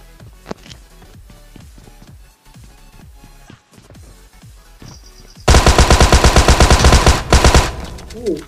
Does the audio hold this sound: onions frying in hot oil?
no